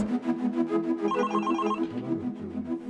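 A telephone rings in steady, repeated electronic trilling bursts, fairly loud and close, with no talk over it.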